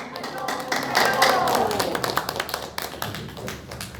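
A church congregation claps in welcome for a visiting missionary, with rhythmic, fairly close clapping running under voices throughout.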